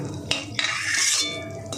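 Crisp-fried peanuts are lifted out of hot oil with a metal utensil: two sharp clinks against the pan, then a rising, hissing sizzle and one more clink, all close by.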